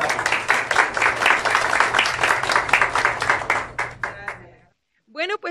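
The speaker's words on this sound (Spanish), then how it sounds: "Y un fuerte aplauso." An audience at a professional makeup design masterclass breaks into rhythmic clapping, loud and close, which stops abruptly near the end before a voice begins speaking.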